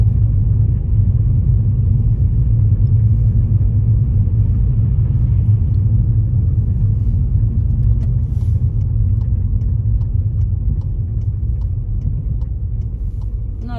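A car rolling slowly along a road behind another vehicle on a cold sunny day in Iceland, heard from inside as a loud, steady low engine and tyre rumble that barely changes, with no voices.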